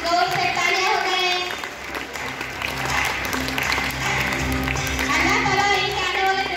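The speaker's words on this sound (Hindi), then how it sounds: "जोर से तालियां हो गए।" Loud applause from an audience at an Urdu Day school celebration in Belgaum, a thick continuous clatter of many hands lasting several seconds, with voices and a melodic sound carrying underneath.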